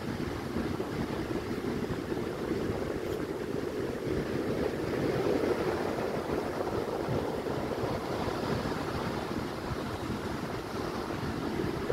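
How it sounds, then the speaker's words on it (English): Ocean waves crash steadily onto the beach at Gold Beach, Oregon, a continuous loud roar of surf with some wind noise across the microphone and no talking. "So watch these waves crash."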